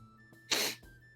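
A single sharp sneeze bursts out in a quiet nighttime setting, loud and close, lasting under half a second against faint background hum.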